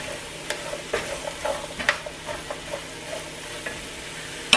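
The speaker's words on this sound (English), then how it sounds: "just going to stir it around a bit" Chicken fajita mix being stirred in a hot pan, with a steady low sizzle and a string of soft scraping strokes, closing on one sharper clink, all near and with no talk.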